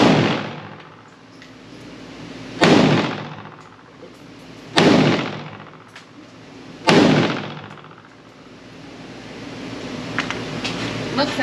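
Three loud, sharp rifle reports ring out from a Ruger Mini-14 in .556 aimed at a target, spaced about two seconds apart, each decaying quickly. A faint background hum runs between the shots, and a voice may be briefly audible.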